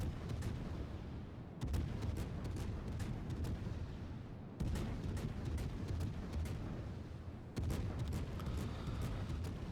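Minotaur cruiser guns firing in World of Warships, rapid volleys of sharp booms over a constant rumbling background, broken into three loud bursts.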